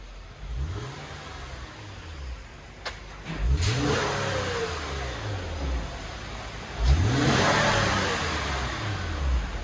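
An Acura TL on its factory exhaust revs several times, each rev rising and falling in pitch over a steady, fairly quiet idle.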